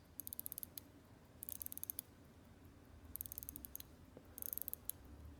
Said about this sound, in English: I'm going to give this a quick wind so you guys can hear the action on this